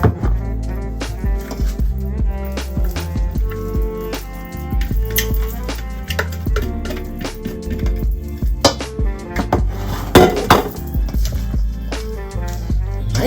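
Lettuce is tossed into a seafood salad in a bowl, producing clinking, scraping and soft wet mixing sounds over continuous background music, with a voice talking at times.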